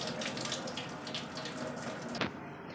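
Tap water runs in a steady, even rush while khapli wheat is washed clean for kheer, with a light clink near the end as the flow carries on.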